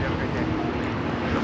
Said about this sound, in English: This is Delta Airlines 446 taking off to Atlanta on the A350-900.